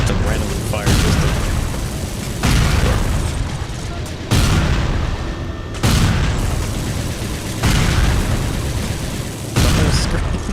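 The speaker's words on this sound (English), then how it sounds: "It's a randomly fired pistol." Heavy booming shots repeat roughly every two seconds in Resistance: Retribution, each loud blast followed by rumbling decay over a dense, noisy backdrop, with a voice talking underneath.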